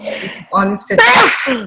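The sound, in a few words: sneeze on video call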